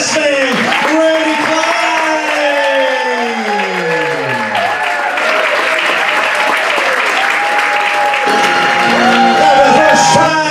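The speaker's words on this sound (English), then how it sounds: "A great round of applause for the matron of honor, Michelle Miles, escorted by the best man, Randy" Wedding guests applaud the matron of honor and best man as they enter, broad steady clapping and cheers filling the room while an announcer's voice carries over the top.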